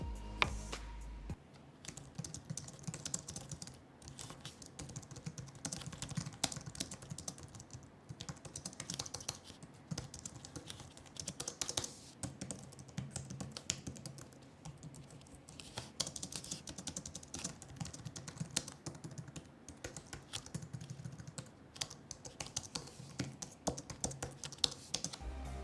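Steady typing on a Microsoft Designer low-profile chiclet keyboard: continuous soft, rapid key clicks and taps in an irregular flowing rhythm, close to the mic, with no voices.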